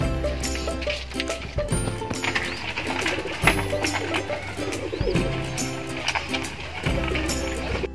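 Pet pigeons or doves coo repeatedly, close and fairly loud, over steady background noise with some talk.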